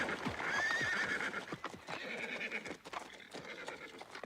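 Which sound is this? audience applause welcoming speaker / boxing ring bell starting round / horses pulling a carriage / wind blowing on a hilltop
horses pulling a carriage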